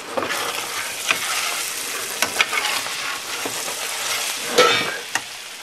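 Salmon fried rice sizzles in a frying pan over high heat, a steady crackling hiss broken by sharp clinks and scrapes as it is stirred.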